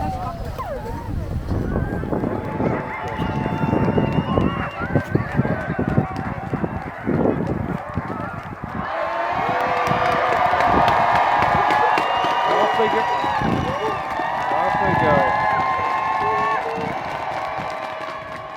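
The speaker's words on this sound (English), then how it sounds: "It seemed like the entire town was there to cheer the mushers on." A town crowd cheers dogsled race mushers in Greenland, with a broad, continuous roar of voices and shouts that swells louder partway through. Dogs and other noise blend into the din.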